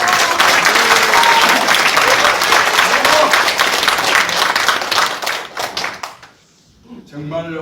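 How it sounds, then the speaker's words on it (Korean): Applause from the audience at a forum in the National Assembly: loud, close, dense clapping that holds for about five seconds, then thins into a few scattered claps and fades before a voice begins speaking. "여러분, 큰 박수 부탁드립니다."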